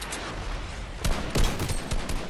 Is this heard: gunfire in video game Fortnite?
yes